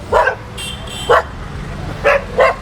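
Four sharp dog barks close up, spaced irregularly, with a brief higher tone between the first two over faint background noise.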